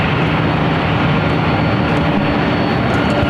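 Airliner jet engines at LAX, a loud, even roar of rushing noise that holds steady and close with no voices over it.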